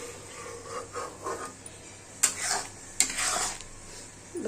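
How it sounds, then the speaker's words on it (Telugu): Kasuri methi gets stirred into a thick paneer butter masala curry, a spoon rasping and scraping around the pan in several brushing strokes over a soft simmering sizzle, close up with no voices. "దీన్ని ఒక్కసారి దీంట్లో మిక్స్ అయ్యేలాగా మిక్స్ చేసుకుని ఇంకో రెండు నిమిషాలు ఉంచేసుకుందాము"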